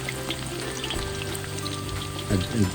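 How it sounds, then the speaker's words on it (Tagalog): Chicken wings for honey buffalo wings deep-fry in hot oil, giving a dense, steady sizzle that swells with a few louder bubbling bursts near the end, close and with no talking. "So we deep fry probably around 7 to 8 minutes"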